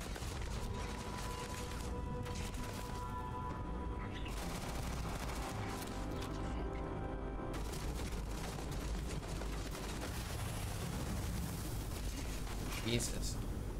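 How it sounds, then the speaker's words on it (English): Combat in the video game Starfield after a frag grenade is thrown, heard as a dense, continuous din of gunfire and explosive rumble with a voice talking over it. "Throw a frag grenade."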